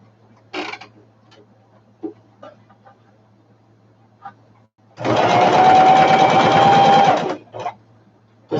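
A sewing machine runs in one steady burst of about two seconds, seaming fabric pieces at a quarter-inch allowance, with brief clicks and handling noises before and after against a low background hum.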